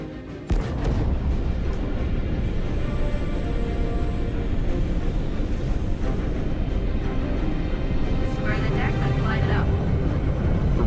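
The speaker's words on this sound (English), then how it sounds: "hold on as you're launched off the deck of the carrier" In the video game Squadron 42, a spacecraft is launched off the deck of a carrier with a sustained, heavy roar that fills the whole stretch, while voices talk over it.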